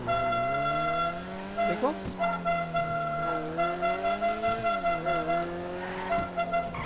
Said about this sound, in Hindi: मेरा हॉर्न कैसा बज रहा है, पानी वानी घुस गया क्या मेरे हॉर्न में?